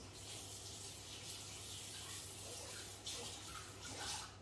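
A kitchen tap runs steadily while food is rinsed, a soft continuous hiss and splash of water heard alone at low level with a faint hum underneath.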